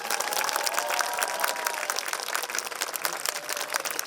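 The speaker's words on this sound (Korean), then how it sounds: "우리 오 지사님께 박수 한 번 보내주시고" An audience at a carbon-neutrality vision ceremony applauds, a dense, steady patter of many hands clapping at once that fills the room for several seconds.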